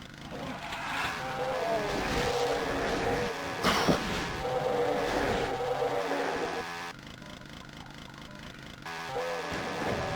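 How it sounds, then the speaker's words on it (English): A chainsaw revving and grinding in the video game Doom, a loud buzzing roar with a sharp spike midway, continuing under game noise and dropping slightly toward the end. "Gotta use the chainsaw."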